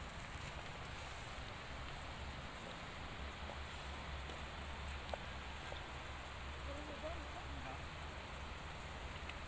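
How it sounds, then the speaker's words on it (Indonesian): Light drizzle falls over a rural village, a faint, steady patter with a low continuous rumble underneath, evenly sustained with no pauses. "Hujan deui Pak ye."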